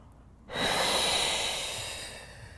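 A single deep, close breath during pregnancy yoga with yoga blocks, a sudden loud airy rush that swells and then slowly fades over about two seconds, with no talking.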